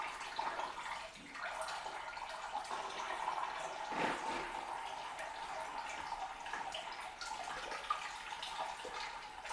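Water steadily draining out of a vehicle's cooling system, a continuous faint trickling and splashing with a brief louder gush partway through.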